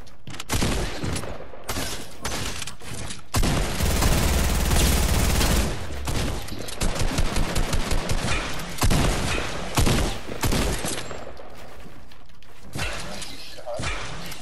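Rapid bursts of gunfire ring out in a mobile shooter game, dense fusillades and clipped single shots stacking up loud and close, with a person talking over the shooting.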